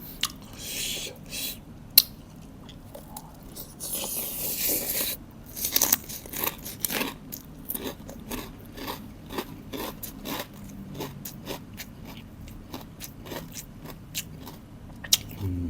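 Crisp pork rinds eaten with spicy papaya salad crunch in a run of close, sharp bites and chewing, with a brief voice near the start.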